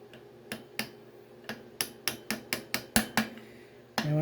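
A bearing is tapped into an LS MT125 tractor gearbox case with a hammer, about a dozen sharp metallic knocks in an uneven rhythm, close and crisp, with a final heavier blow.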